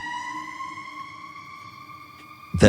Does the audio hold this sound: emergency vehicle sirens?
yes